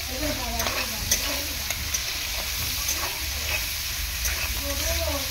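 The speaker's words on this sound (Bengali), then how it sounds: "গ্রেট করা আদাটা দিয়ে দিয়েছি, দিয়ে ভালো করে আদাটা চিংড়ি মাছের সাথে এরকমভাবে কষিয়ে নেব" Prawns and grated ginger sauté in a pan for a homemade pumpkin, potato and pointed gourd labra, a continuous close frying sizzle broken by repeated stirring scrapes of a utensil.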